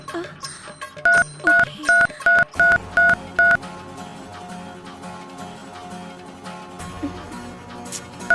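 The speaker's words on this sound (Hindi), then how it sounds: "अब मैं अभी उनको फोन करता हूँ।" A rapid run of seven electronic telephone keypad tones, evenly spaced beeps over a faint room background with music, then quiet.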